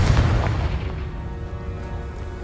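Confringo blasting spell from Hogwarts Legacy bursting in a loud booming blast at the start, then fading into a rumbling decay with a lingering tonal hum.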